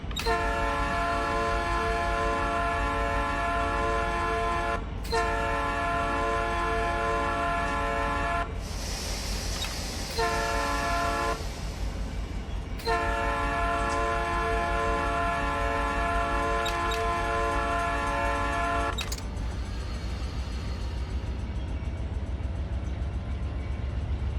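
A southbound freight stack train in a train simulator video game sounds long, loud horn blasts in repeated sections over a constant low rumble of rolling cars passing close by.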